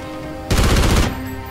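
Automatic gunfire bursts out in a loud, close rapid string lasting about half a second during a Call of Duty Ghosts match on the Invasion Favela map, then cuts off.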